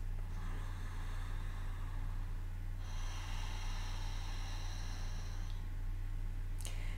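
Ocean breath in a guided yoga-style breathing exercise, air drawn through a constricted throat in a soft hissing rush, one long breath giving way to another over a steady low hum, no talking.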